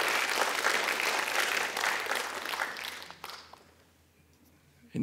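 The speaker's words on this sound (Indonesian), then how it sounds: "Berikan tepuk tangan buat Tuhan Yesus" Loud applause from a church congregation fills the first three seconds, then fades out, leaving near silence before a brief burst at the very end.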